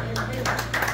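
A church congregation claps in quick bursts during a Spanish-language service, a short rhythmic patter of hands heard over a steady background hum.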